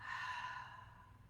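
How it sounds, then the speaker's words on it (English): A single long exhale pushed out through the mouth during a chair yoga session, a breathy sigh that fades gradually over about a second and a half, close and fairly quiet with no talking. "Exhale out through the mouth."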